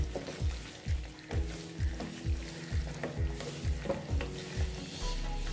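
Kasuri methi is stirred into Afghani chicken frying in a pan, with a steady sizzle under regular rhythmic scraping strokes of the spoon, about two per second, close by.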